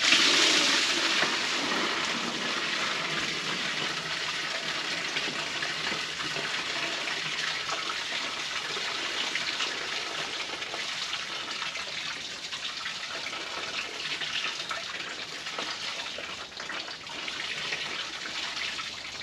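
Car coolant gushing out of a drain onto a garage floor, a continuous splashing pour that runs loud and steady for the whole stretch, close by, with no talking.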